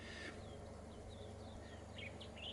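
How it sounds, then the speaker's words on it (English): Outdoors, a bird sings a series of short, faint, rising chirps and whistles over a low steady background hum. "that bird wants to talk to us, doesn't it? Let's listen to that for a second."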